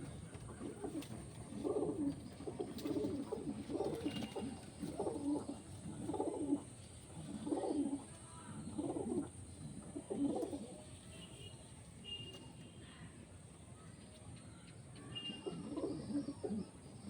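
Prize-winning pigeons coo in a rhythmic series of low, throaty calls repeating about every second, steady and fairly close, with faint chirps and a high background whine.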